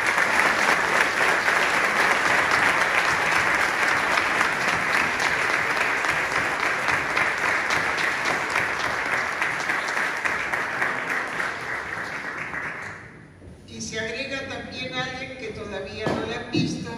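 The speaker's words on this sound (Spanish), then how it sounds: "para quien pido un fuertísimo aplauso" An audience claps loudly and continuously for Carlos Díaz at a live event. The sustained applause runs for about thirteen seconds, then thins abruptly into other sounds.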